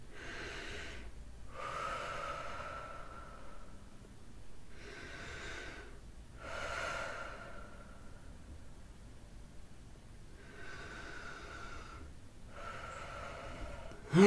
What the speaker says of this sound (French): Prenez pour commencer une bonne respiration, lente et profonde, 3 fois de suite.